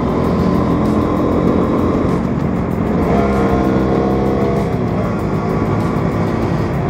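Motorcycles ride in a group along a road, a loud, continuous engine drone and rushing wind from close by, with engine pitch shifting as bikes pass.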